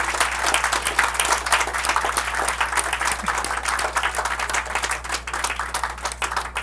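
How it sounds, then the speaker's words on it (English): Sustained audience applause fills a lecture hall after a talk on early recognition and prevention of addiction, dense steady clapping from a large crowd with no speech on top. "Round of applause for Mandy."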